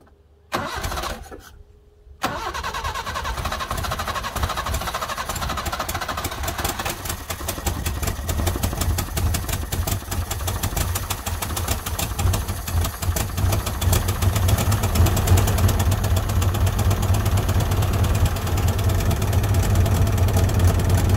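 A Subaru Brat engine cranks and catches after a brief silence, then runs on with a loud, rough, continuous idle, growing slightly stronger toward the end.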